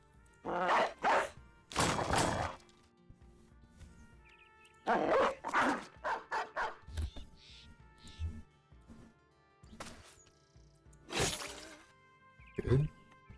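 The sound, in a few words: dogs barking in the video game Battle Brothers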